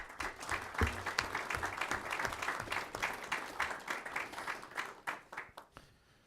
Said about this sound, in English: I just appreciate a round of applause for the victims that were brave enough to come out